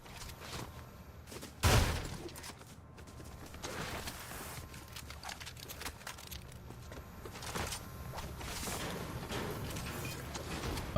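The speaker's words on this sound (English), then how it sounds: "Gunshots this way." Gunshots in a ranked solo match of Fortnite, scattered sharp cracks and volleys of gunfire heard at a distance over low game ambience, with one louder shot standing out early.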